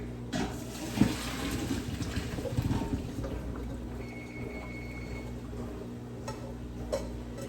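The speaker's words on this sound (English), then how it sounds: "Go ahead and get my noodles that are on the stove. I'm gonna pour them in here." Cooked spaghetti is poured out and rinsed under cold running tap water in a sink: a continuous rushing, splashing flow, loudest at first and then settling into a steadier, quieter stream.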